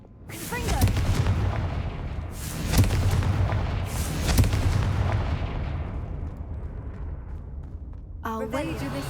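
A Confringo explosive spell cast in the video game Hogwarts Legacy, heavy booming blasts that roll and swell repeatedly, then fade into a rumbling tail, loud and close, with a short burst of voice near the end.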